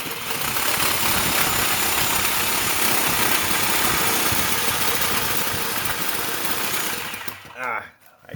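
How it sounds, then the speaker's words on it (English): DeWalt reciprocating saw cutting with a 3 TPI carbide-tipped blade, a loud harsh buzzing and rattling of the reciprocating stroke close by, running steadily before tapering off near the end. "just to show the performance of a standard modern reciprocating saw with no orbiting or counterbalancing or anything like that"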